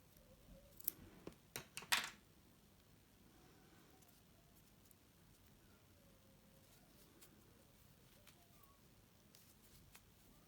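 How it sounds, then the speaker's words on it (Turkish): Scissors snip away excess yarn from a crocheted flower-pattern table runner in a few quick, close cuts at the start, followed by near silence with faint background noise. "Fazlalık kısmı keseceğim."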